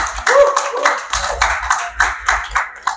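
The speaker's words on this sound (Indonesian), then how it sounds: "Tepuk tangan dulu." A group claps together at a gathering of TikTok creators in a hotel in Jakarta, in sharp, uneven bursts, with voices talking among the claps.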